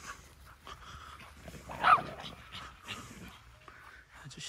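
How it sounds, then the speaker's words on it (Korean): Dogs pant and play nearby, soft panting and scuffling with a brief yelp or whimper in the middle against a quiet outdoor background. "신나게 뛰어놀아라, 멍멍이들아."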